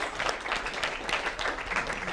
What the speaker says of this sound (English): You can clap if you want to make it make it less awkward.